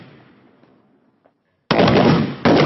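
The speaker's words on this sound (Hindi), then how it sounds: "रिफ्लेक्स फायर कहते हैं" Gunfire on a Garud commando reflex fire drill in an urban-terrain training setting: a quiet lead-in, then a loud, sustained crackle of shots from about 1.7 seconds, a brief dip and another burst.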